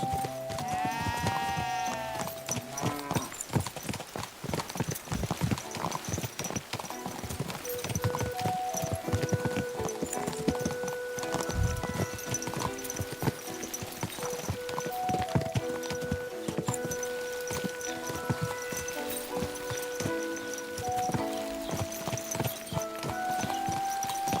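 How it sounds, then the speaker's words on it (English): In the Kingdom Come Deliverance II video game, horse hooves clip-clop at a steady walking rhythm over a medieval outdoor soundscape, with sheep bleating, faint music and occasional distant voices throughout. "Watch out with that horse!"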